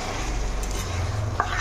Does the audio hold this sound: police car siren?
no